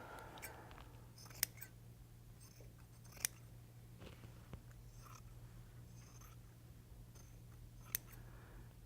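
Scissors trimming excess fabric from a bustier garment, heard as a few faint, sparse snips and clicks spread over several quiet seconds with a low hum underneath.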